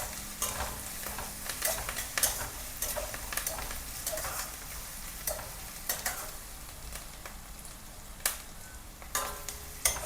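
Curry leaves and onions frying in a pan, a soft steady sizzle broken by repeated scrapes and clinks of a spoon stirring, quiet and close with no voices.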